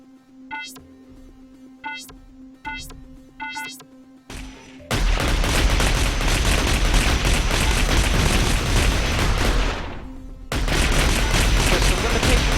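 Weapon and rocket fire in the mech combat game Heavy Gear Assault: a few sharp electronic beeps give way to a loud, sustained roar of blasts and gunfire that dips briefly near the end, then resumes.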